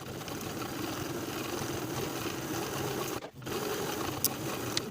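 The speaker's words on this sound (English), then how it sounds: "Sew both seams with a 3/8 inch seam allowance." Domestic sewing machine stitching the seams of a pant pocket, a steady fast mechanical whir held close and fairly quiet, briefly stopping midway before resuming, with a couple of small clicks and no talking.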